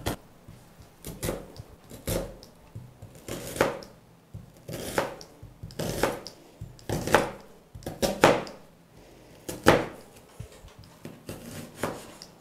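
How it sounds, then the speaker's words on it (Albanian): Knife chopping onions on a cutting board, a run of about a dozen crisp, close chops in uneven bursts with short pauses between them, heard alone without talk. "Qepët e presim në këtë lloj mënyre, as shumë të vogla copat"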